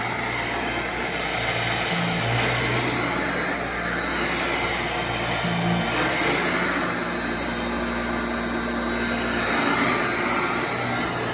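A 1991 Royal Model 882T vacuum cleaner runs loud and close with a steady whirring roar as it picks up crumbs off the floor, with faint rattles of debris passing through.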